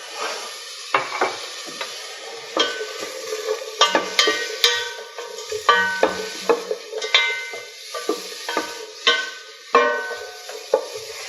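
Onions and spices sauté in a pan on the stove, with a gentle sizzle under repeated clacks and scrapes of a utensil stirring against the pan.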